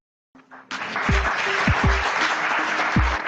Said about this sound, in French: Un franc-maçon applaudi par des frontistes, la scène est étonnante.